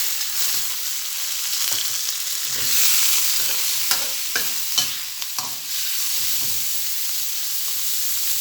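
Pork and shrimp stir-frying with garlic in a hot pan, a dense continuous sizzle and hiss with scattered scraping clicks from a spatula stirring, close and fairly loud, no one speaking.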